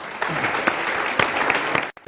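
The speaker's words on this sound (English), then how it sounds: "let's give the UCLA students and faculty a big round of applause as well" A short burst of audience applause for UCLA students and faculty at a campus talk, a brief patter of scattered, fairly close claps that cuts off abruptly near the end.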